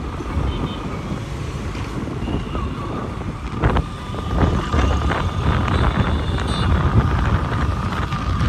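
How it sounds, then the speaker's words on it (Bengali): Motorbike ride, with steady rushing wind buffeting the microphone and the drone of the engine and traffic, loud and continuous throughout. "আমি এই যে বাইক রাইড করছি"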